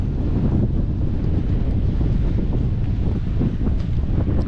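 Strong wind buffets the microphone at Caleta de Fuste beach on Fuerteventura, a loud, constant low rumble with gusting surges and possible surf underneath.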